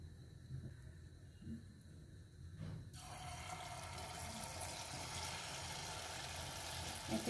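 Gulgule batter drops into hot oil and sets off a broad, steady frying sizzle that takes over after a few seconds of quieter handling sounds, continuing close and even with no talk.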